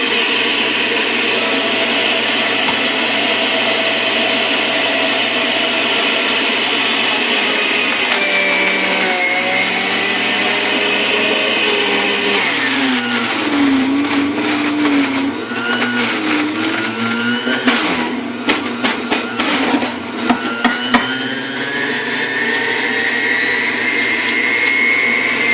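Juicer running on high while juicing carrots, a loud steady motor whine with grinding, rattling bursts as carrot pieces hit the spinning blade, and the pitch wavers under the load throughout.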